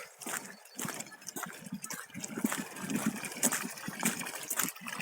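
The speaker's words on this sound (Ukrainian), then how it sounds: "Сейчас вот тут завжди я набираю водичку." Water runs from a central pipe by a riverbank at night in winter as someone draws water. It makes a soft, uneven gushing and splashing with small irregular bursts, fairly quiet and close.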